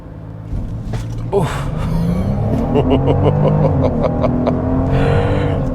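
A 2022 Genesis GV70 SUV with a 3.5-liter V6 launches from a standstill in Sport Plus mode with traction control off. Heard from inside, the engine note rises steadily and loudly as it accelerates, with a voice talking over it.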